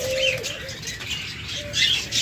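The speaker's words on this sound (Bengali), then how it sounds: "অসংখ্য পরিমাণ অগণিত ঘুঘু পাখি রয়েছে, ডায়মন্ড ঘুঘু" A flock of diamond doves coos in a low, steady tone, with light chirps and brief wing flutters scattered around, close and fairly loud.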